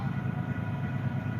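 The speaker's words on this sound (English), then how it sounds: "here comes the train." A train passes nearby, a steady low rumble and rolling roar that holds evenly throughout and swells louder right at the end.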